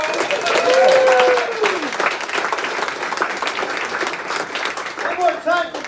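Warm burst of audience applause for a comedian taking the stage at a stand-up showcase, dense clapping swelling then fading, with whoops and voices calling over it.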